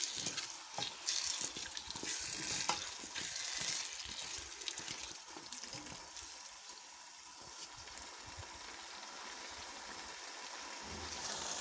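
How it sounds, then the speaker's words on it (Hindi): Cut potatoes frying in ghee over a high flame, a faint, steady hiss with occasional stirring scrapes, fairly quiet and distant. "अब हम इसमें कटे हुए आलू डाल देंगे। फ्लेम तेज़ करके इन्हें थोड़ा सा भूनेंगे।"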